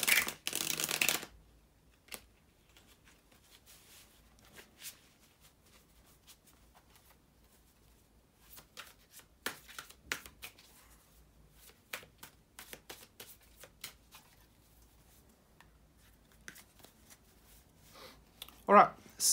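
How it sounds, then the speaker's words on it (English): Tarot cards are shuffled in bursts of soft riffling and tapping, close by, with short pauses between rounds. "to shuffle the tarot cards"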